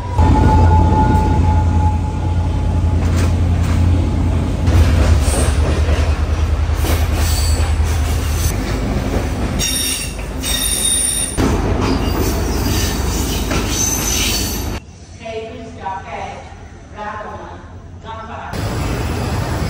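A train runs at a railway station in Sri Lanka, loud and close, with rumbling wheels and squealing rail noise that fade near the end, while people talk over it.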